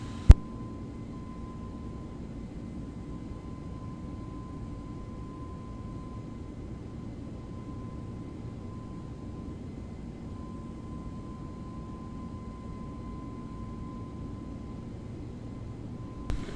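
Steady, even engine drone of an Airbus A321neo airliner cruising at altitude in X-Plane 11, a constant broadband hum with a faint tonal whine, unbroken for the whole stretch with no talk.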